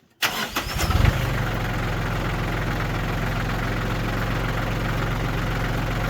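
A log splitter's engine cranks briefly, catches and settles into a loud, steady idle close by, a continuous low rumble with no talking.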